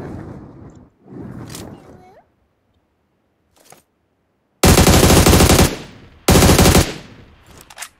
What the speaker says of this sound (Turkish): Biraz daha yaklaşıp vuracağım.